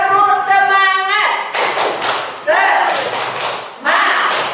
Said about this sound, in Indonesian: Yuk kita tepuk semangat dulu ya ibu-ibu.